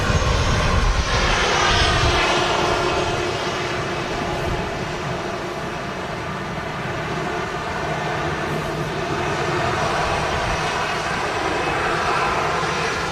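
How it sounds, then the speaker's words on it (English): An EasyJet airliner arriving at Manchester Airport from Amsterdam gives a loud, steady roar and whine of jet engines, sustained and close throughout with no voices. "And this EasyJet just in from Amsterdam."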